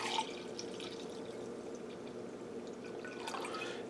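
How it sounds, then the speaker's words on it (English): Cooking sherry poured into a pressure cooker for a pork roast with apple gravy, a faint, steady liquid trickle with soft drips over low kitchen room tone. "I'm going to add in some cooking sherry."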